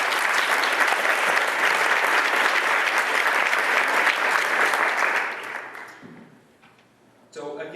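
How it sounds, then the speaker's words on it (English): Applause at a wine conference in Lodi for a speaker's colleague, a loud, dense crowd clapping that holds for about five seconds, then fades out before a voice resumes. "Mark Chandler deserves a round of applause for that"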